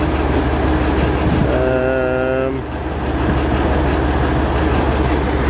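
BMW 850i engine running at a steady, loud idle close by, with a brief tonal whine rising over the hum partway through.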